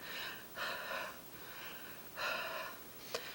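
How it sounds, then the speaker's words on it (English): Three soft breaths huffed out onto a large rubber stamp inked with dye ink, each a breathy exhale about half a second long, close and quiet, followed by a faint click. "I'm going to huff on it, which is just breathing out on it."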